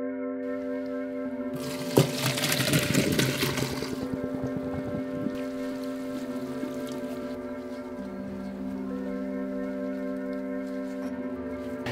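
Leftover milk pours into a roux for mac and cheese, a splashy burst lasting about two seconds over a steady humming kitchen drone, which continues alone afterward.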